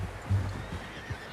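A horse in Red Dead Redemption 2 gives a short, quiet neigh with faint hoof clops, low and brief within a soft game ambience.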